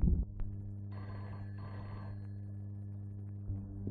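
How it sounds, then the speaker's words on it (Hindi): An indoor telephone bell rings in a short burst and then rings again after a brief pause, clear and moderately loud over a steady low hum, with no talking. "देखो किसका फोन है।"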